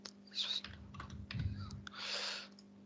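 Typing login credentials on a computer keyboard: a quick run of soft key clicks over a few seconds, fairly close but quiet, with a steady electrical hum beneath.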